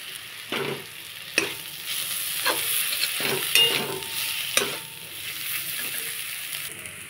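Spice masala frying in oil for a pomfret fish curry, a steady close sizzle broken by repeated scraping knocks of a spoon stirring the pan, with no talking.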